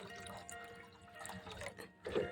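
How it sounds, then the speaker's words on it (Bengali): Water being poured into and mixed with rice-washing water, soft trickling and dripping splashes with a louder slosh near the end, faint and close. "এবার এই জলটার সঙ্গে এই চাল ধোয়া জলটার সঙ্গে মিশিয়ে নেব"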